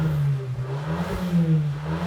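A Fiat Pulse Abarth 1.3 turbo in Sport mode revs hard with a loud, deep, sustained engine roar that swells and eases twice, with a faint turbo whistle riding above it, close by and with no talk.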